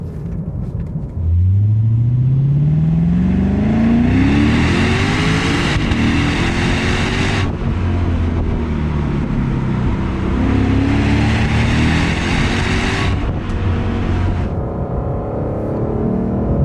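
A deep, loud V8 engine of a 2020 Lexus RC F Track Edition revs up with a rising bellow, then holds a rumbling, throaty drone with repeated surges for the whole stretch.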